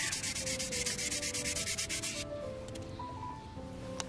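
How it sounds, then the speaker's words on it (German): Soapstone being sanded smooth by hand with a very fine sanding sponge: close, steady rhythmic rubbing strokes for about two seconds, then quieter, softer scraping with faint background hum. "Und zum Schluss ein ganz feiner Schwamm, der wirklich ganz, ganz glatt den Stein schleift."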